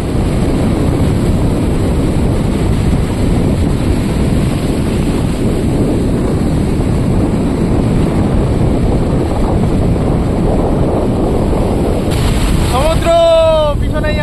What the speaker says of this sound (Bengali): সমুদ্রের উত্তাল ঢেউ আছড়ে পড়ছে সমুদ্র তটে।